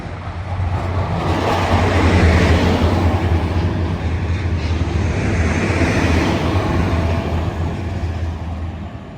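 A train running from Hitchin down yard toward Doncaster sidings on the East Coast Main Line near Peterborough rumbles past steadily with a loud low engine drone and broad rushing noise, holding a constant level throughout with no voices.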